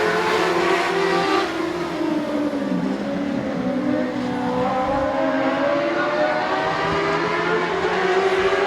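Dirt track race cars at Midvale Speedway roar close by, their engines accelerating with rising and falling pitch as gears shift, a loud continuous layered drone throughout.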